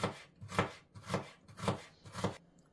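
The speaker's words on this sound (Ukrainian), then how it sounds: "І зараз ми будемо з вами розпочинати різати цибульку, нарізаємо її отак пір'ячком" Knife slicing an onion thinly on a board, five evenly spaced crunchy cuts, close and fairly soft, with no talking.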